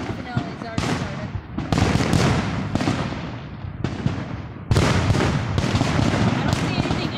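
Fireworks show finale, a rapid run of loud booming and crackling bursts following one another with short gaps, near and forceful, with a voice faintly under them.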